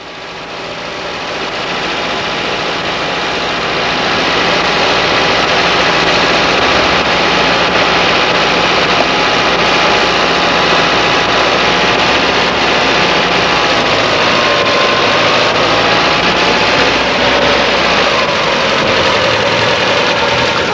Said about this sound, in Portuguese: regule a rotação do motor na extremidade da haste, com os valores especificados para cada versão